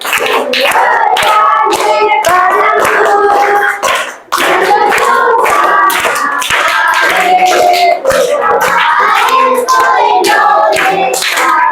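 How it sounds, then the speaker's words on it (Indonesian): Hand clapping from a classroom of sixth-grade students in Indonesia: loud, close, continuous rhythmic clapping with a brief pause near the middle before resuming, voices mixed in. "tepuk tangan untuk kita semua"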